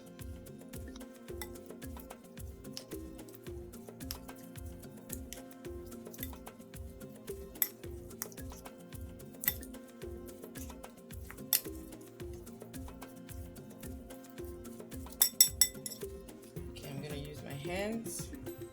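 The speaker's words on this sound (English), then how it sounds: "So at this point we're going to mix everything together." Turkey meatball ingredients, including ground chia seeds and salt, are mixed in a bowl, giving a steady rhythmic series of soft squelching thumps with occasional light clinks, fairly quiet and close.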